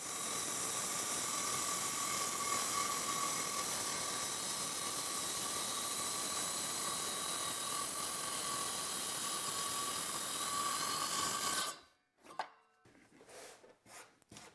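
A circular saw cuts through a board along a clamped straight edge guide, a loud, steady whining roar lasting about twelve seconds before the blade stops abruptly, followed by a few quieter knocks and handling noises.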